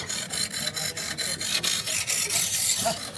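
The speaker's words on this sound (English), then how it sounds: "I'm just putting the secondary bevel on at the moment" A knife blade is sharpened to put on a secondary bevel, producing a rhythmic, repeated rasping scrape, roughly three strokes per second, steady and close.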